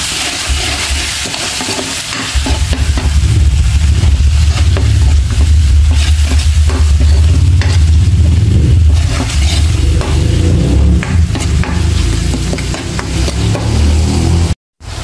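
Fish sauce, black pepper and seasoning being stirred in a hot pan for ginataang bangus, with a loud continuous sizzle and spoon scraping that runs almost the whole way before a sudden cut near the end.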